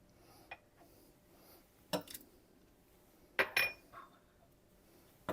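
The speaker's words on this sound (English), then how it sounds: "Give that a nice little stir." Fish sauce ingredients stirred in a pan, a few sharp clinks and scrapes of a utensil against the cookware in irregular bursts over a quiet background.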